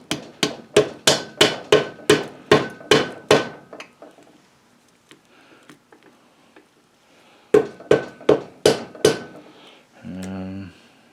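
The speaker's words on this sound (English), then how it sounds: "Take our little hammer." A small hammer taps piston rings into the bore through a ring compressor while a Kohler K301 engine is being assembled. Two bursts of about ten quick metallic knocks are separated by quieter handling clatter, and a short tool rattle follows.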